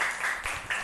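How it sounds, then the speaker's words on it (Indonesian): Brief applause for a student named Akmal in a classroom, a short burst of scattered hand clapping from a small group, moderately loud and close. "Tepuk tangan buat Akmal."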